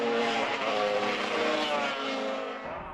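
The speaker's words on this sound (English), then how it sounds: "his pit crew can hear his engine misfiring" A British-built Spartan racing motorcycle, its engine misfiring in a rain-soaked race, roars past as a buzzing, wavering engine note that fades toward the end.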